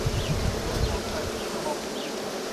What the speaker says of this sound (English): this is a productive hive that is working very good